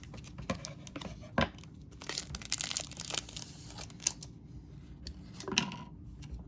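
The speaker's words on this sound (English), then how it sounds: "Let's open these up with the scissors." Scissors snip and crinkle through the plastic wrapping of a 1983 Donruss Action All Stars sports card pack in a series of irregular crisp cuts and rustles, close and fairly quiet.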